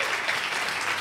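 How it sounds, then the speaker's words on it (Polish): A conference audience at a finance blogging event bursts into loud, continuous applause as a blogger is introduced, with no speech over the clapping. "Brawa dla Michała"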